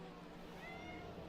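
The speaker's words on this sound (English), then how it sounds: "My cat's saying hello." A pet cat meows softly and briefly, close by but faint, over a steady background of engine-like noise during a small-wheels racing stream.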